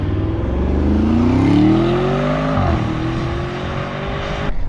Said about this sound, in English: this is one of the nicer sounding V8s out there